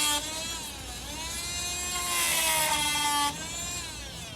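An oscillating multi-tool fitted with a metal-cutting blade saws through steel nails in a wooden deck board, a loud, steady high-pitched whine that rises in pitch and intensity midway, then drops back as the blade keeps cutting.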